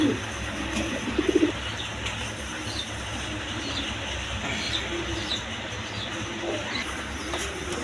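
Pigeons in a loft, a pair of black Bombay pigeons alongside a Lahori hen, give soft low coos, with a short cluster near the start over a steady background din.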